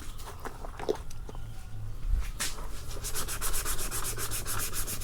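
Steady rubbing strokes of 320-grit sandpaper on a car body being prepped for paint, close and fairly loud, with a quicker back-and-forth rhythm toward the end.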